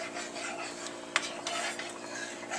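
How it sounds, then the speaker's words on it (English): Butter, flour and milk sauce being stirred in a pot over medium-high heat for mac and cheese, a soft continuous swishing scrape with one brief utensil click against the pot. "Mix it around. And all that butter and flour is going to mix in with that milk"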